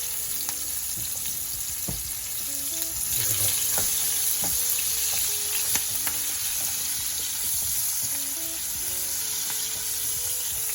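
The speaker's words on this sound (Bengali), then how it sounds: "পেঁয়াজ ভাজা হয়ে গেল" Onions, dried red chillies and green chillies fry in oil in a pan for an Onion Fish Fry, giving a steady close sizzle with scattered crackles and pops and occasional stirring clinks, with no talk.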